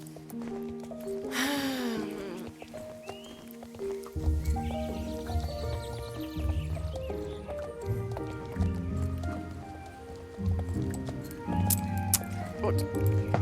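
A horse gallops in a French-language video game, with rhythmic clip-clopping hooves and occasional clinks over layered game music and sounds.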